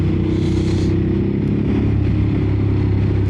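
Ducati Monster 950 Plus motorcycle riding at speed on twisty B roads, a steady loud engine drone with heavy wind roar, continuous and close with no voices.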